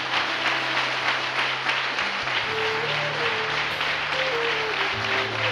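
A congregation at a Sunday worship service claps loudly and continuously, a dense, even wash of applause filling the room, with sustained keyboard-like tones droning underneath.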